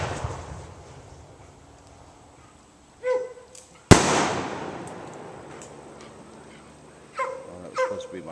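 Fireworks rain shell bursts with a sudden loud bang near the middle, followed by a long crackling, hissing decay; a smaller pop comes just before it and a few faint sharp reports sound later, outdoors.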